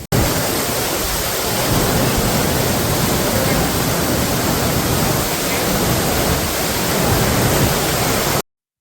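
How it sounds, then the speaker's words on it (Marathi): Two waterfalls merge into one stream in the Andharban jungle of Maharashtra, giving a loud, steady broadband roar of rushing water that stays constant for about eight seconds, close and unbroken, before cutting off. "दोन धबधबे इथे येऊन एकत्र होऊन तिथून असा वाहत जातोय"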